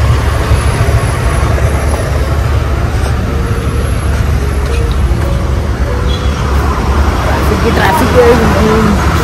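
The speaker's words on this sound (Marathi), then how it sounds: "फुल ट्रॅफिक चालू आहे" Heavy road traffic on the drive to Raigad Fort in Maharashtra makes a steady, loud, low rumble throughout, heard from inside a car with voices talking over it.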